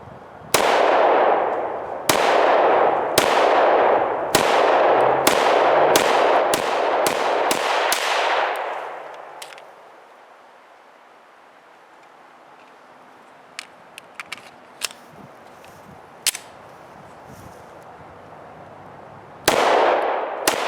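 A Smith & Wesson M&P 10mm pistol fires range ammunition: about ten sharp, loud shots in a steady rhythm with echoing decay, then quiet handling clicks, and two more shots near the end.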